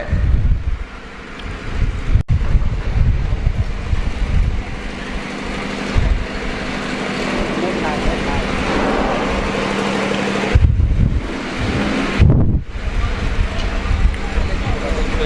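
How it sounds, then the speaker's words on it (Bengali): Strong wind gusts outdoors during a storm, a loud, continuous broadband roar with low buffeting rumble on the microphone, briefly dipping twice near the end. "বাতাস চলছে।"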